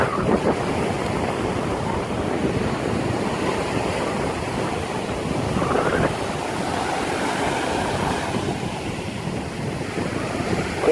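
Sea waves break on a sandy beach in a steady, loud surf roar that lasts the whole stretch, with some wind rumble on the microphone and no voices.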